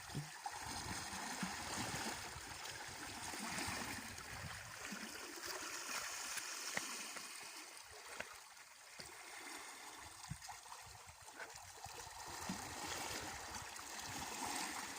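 Seawater swirls and gurgles continuously, a soft churning wash with small splashes, steady and fairly faint, no voices.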